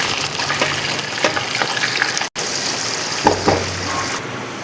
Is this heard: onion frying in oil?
yes